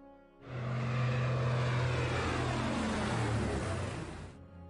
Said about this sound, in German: Jetzt kommt da eine ganze Luftarmada.